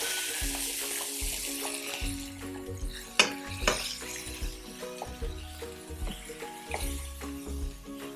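Chicken pieces cook in a pan for a herb-butter chicken parcel, giving a steady close sizzle broken by uneven scrapes and clinks as the meat is stirred and poked with a utensil.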